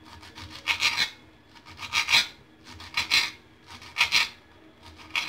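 A knife chops through dried parsley on a board. Rhythmic raspy strokes come in paired bursts about once a second, close and crisp, with no voice.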